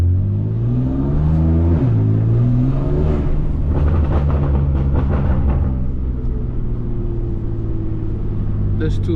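A straight-piped 650HP BMW F80 M3 rumbles loudly up close, its exhaust swelling through a rev and falling back to a deep, burbling drone, with someone talking briefly over it.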